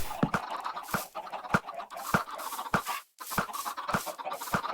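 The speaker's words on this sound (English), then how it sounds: "just put the chickens that lay the eggs on the top" Repeated short clucks from chickens in Minecraft, steady and close, with a brief silent gap partway through.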